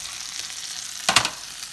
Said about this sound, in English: And I'm going to go ahead and put my ground sausage in here.